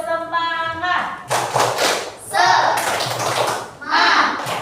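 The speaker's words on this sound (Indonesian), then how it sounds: "Kalau Mas semangat, ayo kita tepuk semangat dulu." Children in a classroom perform the tepuk semangat clapping chant, several loud bursts of group clapping and rhythmic claps mixed with shouting voices and a teacher speaking nearby.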